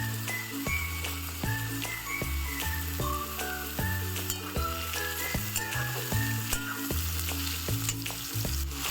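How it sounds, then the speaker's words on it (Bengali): Potatoes with green chillies fry in a pan, then chopped onions go in; a loud close sizzle runs throughout with rhythmic stirring scrapes and light clinks of the spatula, no speech. "আলুগুলো হালকা ফ্রাই হয়ে গেলে আমি এবার পেঁয়াজ কুচিগুলো দিয়ে দেব।"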